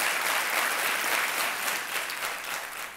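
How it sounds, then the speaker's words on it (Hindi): Studio audience of a television quiz show applauding, a dense, loud wash of clapping that fills the whole stretch without pause and eases slightly toward the end. "हम तालियां और अभिनंदन करना चाहते हैं आपका।"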